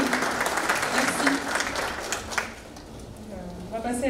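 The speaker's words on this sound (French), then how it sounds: "On peut les applaudir." Audience applause at an International Francophonie Day event, a steady dense clatter of many hands that fades somewhat partway through, with voices mixed in beneath.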